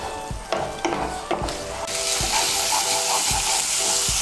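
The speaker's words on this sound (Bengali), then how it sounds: "মিশিয়ে নিয়ে মশলাটাকে আরেকটু কষিয়ে নেব।" Spice paste with poppy seed paste sautéing in a pan for masala soybean, a steady loud sizzle with periodic scraping stir strokes, no talk.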